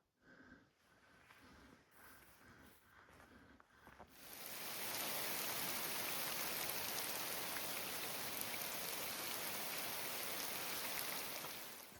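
Heavy rain pours down on a hiking trail in Yellowstone during a long-distance thru-hike, starting as scattered drops for about four seconds before a loud, steady downpour takes over and roars without a break.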